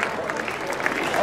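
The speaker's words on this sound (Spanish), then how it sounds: "Un aplauso por la idea" Applause from a crowd at an outdoor floral pilgrimage festival, the Romería Floral de San Bartolomé in Fontanales, as a steady dense wash of clapping that holds through the whole short stretch.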